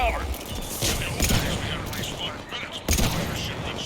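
Rapid gunfire from a hand cannon in a video game, several loud bursts in quick succession with a sharp blast near the three-second mark, set against dense battle noise and speech.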